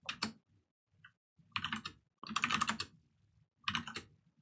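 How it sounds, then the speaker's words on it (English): Computer keyboard typing comes in a few quick clusters of crisp clicks, close and quiet, separated by brief silences. "I type bash here."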